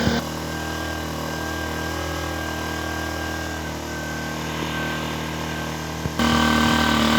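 Zipper 1100 portable power generator running, a steady droning engine hum with a constant pitch that rises slightly in loudness near the end, close and alone without talk.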